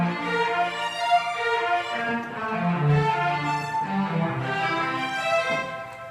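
Orchestrated keyboard part driven by an arpeggiator, layered synth tones cycling in steady repeating note patterns over shifting chords, sustained and close with no voices.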